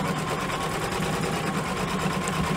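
An embroidery sewing machine stitches a stained-glass-style stocking, its steady motor hum and rapid needle chatter running continuously and fairly close throughout, with no voices.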